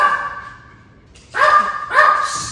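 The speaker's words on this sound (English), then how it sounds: "waiting for her to stop barking" A dog barks loudly and close by, a tonal yelp near the start and then two strong barks about half a second apart, with quiet gaps between and no talking.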